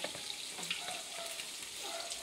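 Fish frying in hot oil in a pan, with a continuous soft sizzle and faint crackles throughout, no voices.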